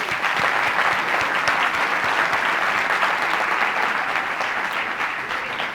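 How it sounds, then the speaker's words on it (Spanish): An audience at a Radio Agricultura book event breaks into loud, dense applause that holds steady throughout, with no voices over it. "Un aplauso entonces."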